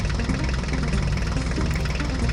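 A toy mini tractor drives through mud, giving a continuous, dense, rattling engine drone at close range with no pauses.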